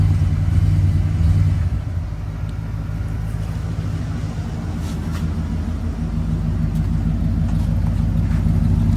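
A 1987 Ford LTD Crown Victoria idles with Flowmaster mufflers and dual tips, producing a deep, steady, close exhaust rumble that swells briefly at the start and then settles into an even burble, with no voices.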